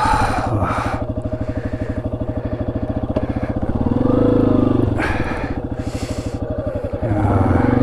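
A Yamaha XT250 dual-sport motorcycle rides through wet, muddy desert, its single-cylinder engine thumping steadily close by and rising in a brief rev mid-clip, with a couple of bursts of wind buffeting.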